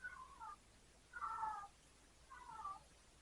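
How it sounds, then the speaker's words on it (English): A house cat meows three times in the background, each drawn-out call separated by quiet gaps, faint and distant with no talking over it. "You hear our stupid cat back there?"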